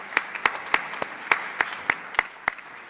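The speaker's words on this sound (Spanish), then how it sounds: "Le damos de nuevo este fuerte aplauso." Sparse, evenly spaced claps ring out alone as an audience applauds a doctor after an emergency-medicine lecture on the bougie, about nine crisp separate hits at a moderate level.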